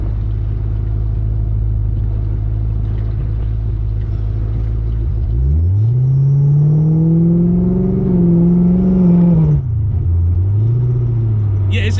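A supercharged Ford Coyote V8 in an SN95 swap revs through a free-flowing exhaust while running too rich: a loud steady idle rumble rises into a sustained rev around the middle, holds, drops briefly, then swells again.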